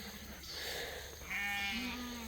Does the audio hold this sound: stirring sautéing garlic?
no